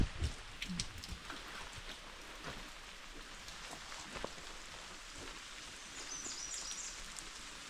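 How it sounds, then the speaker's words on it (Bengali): Rain falls on the forest around a campground, a soft, steady patter of drops on leaves with a few nearer drips and faint bird notes. "জঙ্গলের ভিতরে বৃষ্টি শুরু হয়ে গেছে।"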